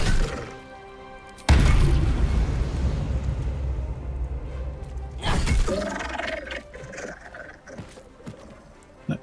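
Objects smash and shatter in Baldur's Gate 3. A sudden loud crash breaks into scattering debris, and a second smash follows a few seconds later before the clatter fades.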